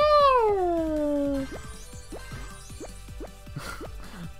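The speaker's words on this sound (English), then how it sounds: "Wanna hear the dead cat noises?" Cartoonish cat yowls from the video game Super Monkey Ball Banana Mania: a long descending meow up front, followed by a run of short clicky game effects and faint background music.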